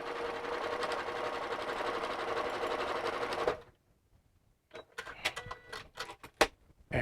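A sewing machine runs a quarter-inch top stitch on a garment, a steady close mechanical whir for a few seconds, then stops and gives way to faint clicks and handling noises.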